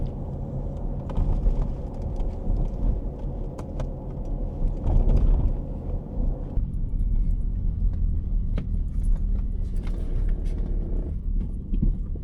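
A car drives along a city street at a limited speed, its steady low engine and road rumble heard from inside the vehicle, with faint knocks and clatters over the drone.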